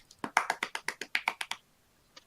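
An applause sound effect plays from a soundboard: about a dozen crisp, thin claps in a quick, even run, then a pause and one last lone clap. The tone is lo-fi and sparse rather than a full crowd.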